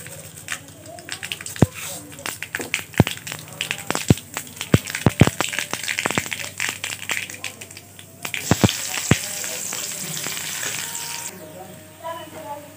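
Cabbage and potato fry in hot oil in a home kitchen, a steady sizzle with sharp clicks and stirring taps throughout, growing louder near the end, while someone talks over it.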